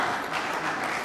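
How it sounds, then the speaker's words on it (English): A crowd applauds award recipients at an Optimist Club youth program in Lynchburg as they come forward, steady, dense clapping filling the whole stretch at moderate volume with no voices above it. "we're gonna give you all a big round of applause"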